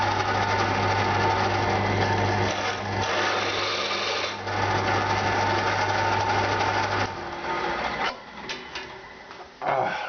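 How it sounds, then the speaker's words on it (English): A drill on a metalworking shaper opening three holes out to 6 millimetres, a steady mechanical whine and grinding that holds for several seconds, then breaks into shorter, uneven bursts, with no talk. "Now I have to open up these 3 holes to 6 millimeters."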